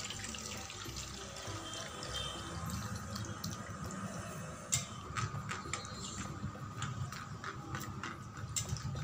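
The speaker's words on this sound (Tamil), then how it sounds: "இப்போ இந்த பாலை வடிகட்டி எடுத்துக்கிறேன்." Wheat milk is strained through a filter, with a continuous soft watery trickle, light splashing and scattered clinks of a utensil, faint and close.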